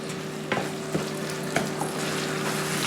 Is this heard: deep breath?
no